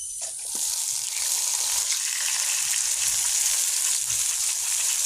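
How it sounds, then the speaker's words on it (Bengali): Meat sizzling as it goes into fried spice paste in a pan, a continuous close hiss and crackle that stays even for several seconds, no talk. "এবারে মাংসটা দিয়ে দিব মশলাটা কষানো হয়ে গেছে"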